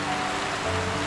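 Heavy rain pours steadily during a downpour, a dense continuous wash with water dripping through leaks in a shelter where people wait it out, no talk heard.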